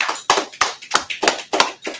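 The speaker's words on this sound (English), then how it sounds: "Clap it up for the sister" A congregation claps in a steady, even rhythm at a Sabbath service, with about seven sharp, close claps spaced evenly and no voices over them.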